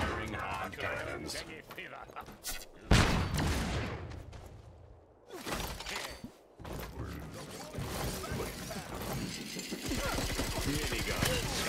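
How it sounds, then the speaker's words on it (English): Booming game cannon shots and mechanical clanks come in bursts, loud and close, while a voice talks intermittently over the battle noise. "Firing hard cannons."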